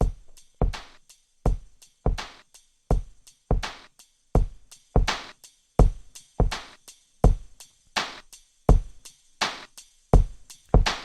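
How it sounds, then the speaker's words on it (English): Electronic beat loop with a sampled hi-hat, steady sharp percussive hits repeating roughly every half second with a short decaying tail, moderately quiet and alone without talk. "I created a beat loop that sounded like this."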